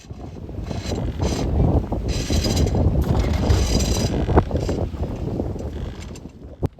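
Continuous rushing wind and water wash around a Thames sailing barge under way, with occasional creaks and knocks of rigging, steady and fairly close.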